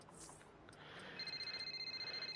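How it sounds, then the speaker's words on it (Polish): A telephone rings inside the F1 23 racing game, starting about halfway through as a quiet, rapid pulsing electronic trill over a soft background hum. "Telefon?"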